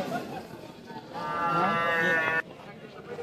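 Murrah and Jafarabadi buffaloes at the Varkhadi livestock market, one giving a loud, drawn-out moo in the middle of a low market murmur.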